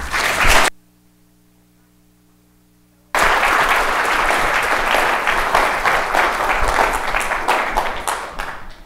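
An audience bursts into applause at a conference, welcoming a speaker to the stage: a loud burst of clapping, a short hush, then sustained, dense clapping from a large crowd that slowly fades.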